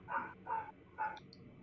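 A dog barks three times in quick succession at a moderate distance, short clipped woofs with brief gaps between them, heard alone without talk.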